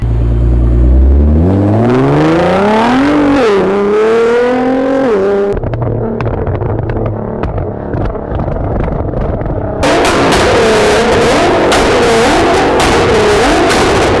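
A full bolt-on 2016 Nissan GT-R with blow-off valves revs hard and loud up close, its engine pitch climbing and dropping through several sharp blips before settling into a steady, roaring idle.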